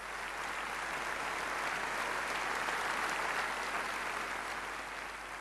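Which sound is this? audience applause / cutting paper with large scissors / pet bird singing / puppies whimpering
audience applause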